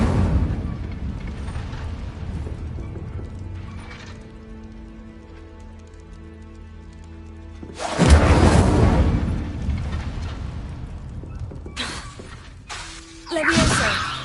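Incendio fire spell in a Hogwarts game: a low rumbling buildup gives way to a sudden loud burst of crackling, shattering flame, then fades, with a second sharp fiery blast near the end.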